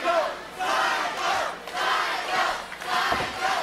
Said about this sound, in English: The crowd back to chanting Psycho, trying to get Zakk back to his feet.